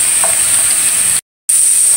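Chicken skin sizzles in hot oil in a pan, being fried before annatto powder is added, giving a steady close hiss that cuts out briefly into silence and then resumes.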